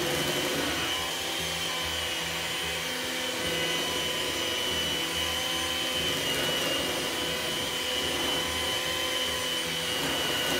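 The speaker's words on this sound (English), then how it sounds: "I started it out on the stove, but I feel you get a better mix with the hand mixer" An electric hand mixer whirs continuously and loudly through coconut milk and plantain flour fufu, a steady motor drone with no breaks.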